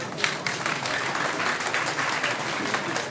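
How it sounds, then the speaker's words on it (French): Sustained crowd applause greeting the governor at a public welcome event for the Prime Minister's arrival in Kayes, dense and even clapping from a large gathering, fairly loud throughout. "Nous accueillons le gouverneur par vos applaudissements."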